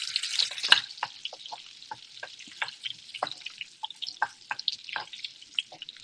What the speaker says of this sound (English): So I added some more oil. Good. They are cooking. The onions are browning